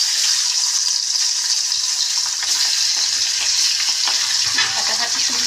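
Boal fish fries in hot oil with a loud, steady sizzle and scattered crackling pops going on throughout, close and continuous with no voices.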